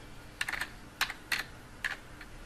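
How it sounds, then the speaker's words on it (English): A few quiet keystrokes tap on a computer keyboard, in small irregular clusters with pauses between. "We can then type in the address for Google's homepage"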